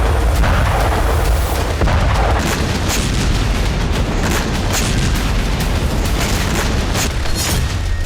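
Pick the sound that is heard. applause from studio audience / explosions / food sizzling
explosions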